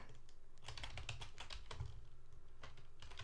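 Rapid clicking of computer keyboard keys, a busy irregular run of taps that keeps going for a few seconds, close and fairly quiet, with no voices.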